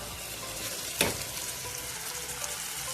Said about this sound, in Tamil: கொஞ்சம் நேரம் எண்ணெயிலே வேகட்டும், அந்த இஞ்சி பூண்டு அதோட பச்சை வாசம் எல்லாம் போகிற மாதிரி